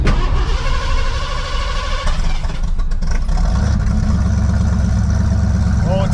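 A budget daily-driver car's engine turning over and catching, then running loud and rough with an uneven, lumpy idle that carries steadily through to the end, close and continuous.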